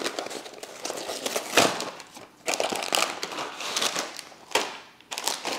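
A snack bag with a dip inside is torn open, giving bursts of loud, close crinkling and crackling plastic in irregular handfuls.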